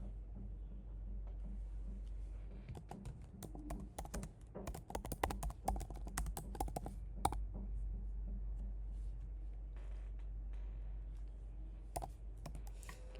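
Steady typing on a computer keyboard while entering details into sales CRM software, dense clusters of key clicks over a low background hum, with a few pauses in between.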